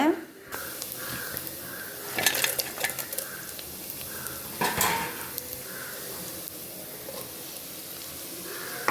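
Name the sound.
tempering chili and grated coconut in a pan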